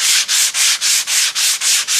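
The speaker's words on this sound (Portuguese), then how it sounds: "coçada de lixa" Rhythmic strokes of 100-grit sandpaper rasp across an MDF surface, about eight even back-and-forth passes, loud and close with no talking.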